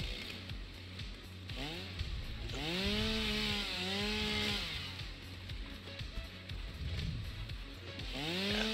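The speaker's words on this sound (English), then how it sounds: "So then we're just going to chainsaw this out." A chainsaw in the video game Satisfactory clears away plants, its engine rising and falling in pitch through several revs over a low, rumbling game background, with no talk.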